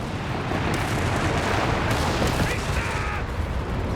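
A BL 5.5 artillery barrage in the video game Company of Heroes 3: a continuous, dense roar of overlapping blasts and rumbling impacts that keeps a steady loudness for four seconds.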